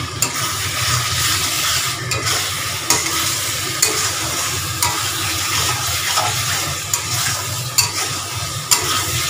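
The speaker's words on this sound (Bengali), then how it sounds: "এবার আলুগুলো দিয়ে আর একটু কষাবো" Potatoes frying with spice paste in a home kitchen pan, a steady loud sizzle running throughout with periodic clicks and scrapes from stirring.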